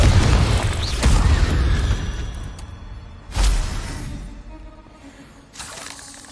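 Blasting-curse explosions from Hogwarts Legacy go off one after another, each a sharp booming crack with shattering debris that then trails off, three distinct loud hits.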